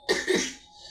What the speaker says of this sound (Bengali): আমার অনেক প্রচুর কাশিও